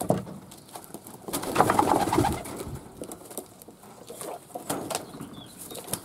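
White pigeons at a nest give soft, low cooing with some wing shuffling, faint and close, in a quiet setting.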